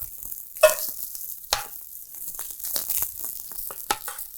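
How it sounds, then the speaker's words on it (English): Asparagus spears set one by one into a very hot grill pan with tongs, giving sharp clacks and brief sizzles with soft rustling between, close up and with no talking. "I'm going to lay them across this way so we get the grill marks on the spears of asparagus."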